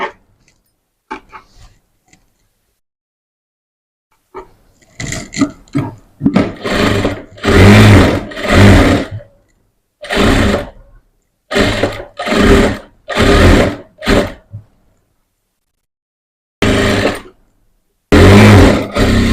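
An electric sewing machine stitches piping onto the back neck of a blouse, running in loud bursts of a few seconds each, stopping and starting repeatedly after a quiet start with faint handling clicks.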